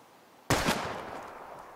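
A single sharp gunshot rings out in the Life Is Strange video game while bottles are being shot at, its report decaying with a short tail into a quiet background.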